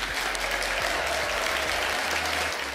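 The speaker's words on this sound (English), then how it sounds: "Let's give them all a huge round of applause." An audience gives steady, full applause for award winners and finalists at a community sustainability awards event, continuous dense clapping throughout.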